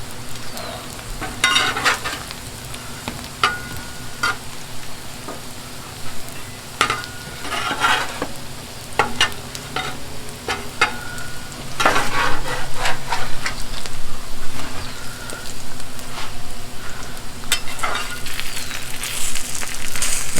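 Hash browns fry on a Blackstone griddle in collecting oil with a steady, close sizzle, punctuated by sharp scrapes and taps of a metal spatula stirring and shifting them.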